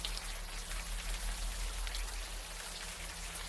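Steady, even rain patters down in the video game Unavowed, a soft continuous wash of drops over a low background hum, with no voices.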